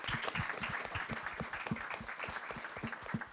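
Faint applause from an audience welcoming a discussion panel, a soft steady patter of many hands with a few sharper individual claps standing out, heard from a distance.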